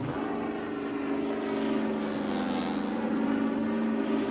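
Propeller airplane flying overhead in American Truck Simulator, a steady droning engine hum at moderate distance that swells slightly, with no talk.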